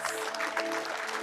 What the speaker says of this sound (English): Can we have a big round of applause for